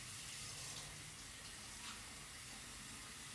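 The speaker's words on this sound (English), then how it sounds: "Excuse the water in the background." A kitchen or bathroom tap runs steadily in the background, a faint, continuous hiss of flowing water with no other sounds over it.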